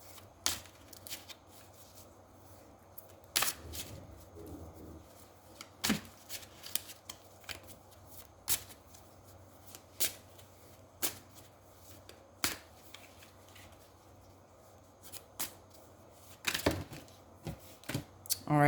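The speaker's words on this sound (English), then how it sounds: "Shuffle, shuffle." Tarot cards shuffled by hand in repeated crisp riffles and taps, close and fairly quiet, with a speaking voice between bursts.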